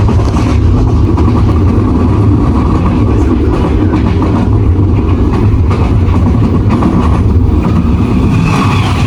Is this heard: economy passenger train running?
yes